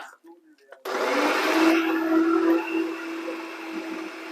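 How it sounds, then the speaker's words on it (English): Electric mixer starting up and whirring steadily while beating cupcake batter for raspberry and coconut cupcakes, a loud sudden onset followed by a sustained motor hum that eases slightly, after brief faint speech. "Start your mixer going."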